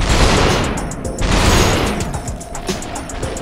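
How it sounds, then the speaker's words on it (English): Shotgun gunfire in Superhot comes as loud close blasts in quick succession, mixed with clattering mechanical clicks and crashes, with no talking. "That's a shotgun."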